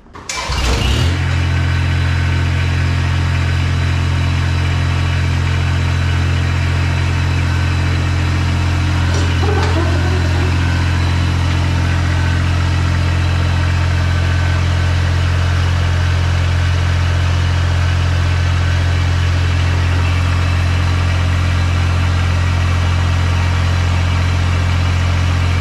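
A Kubota BX compact tractor's engine starts and settles into a loud, steady idle with a deep, continuous drone that lasts throughout, with no talking.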